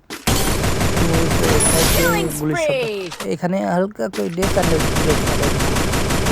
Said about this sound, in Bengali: এখানে আছে গুলির শব্দ পাওয়া যাচ্ছিল